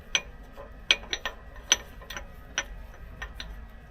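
A ratchet wrench clicks in short, uneven bursts while tightening a hex head bolt on an aftermarket upper control arm of a 2014 truck, the sharp ratcheting clicks fairly close over a low, quiet background with no talk.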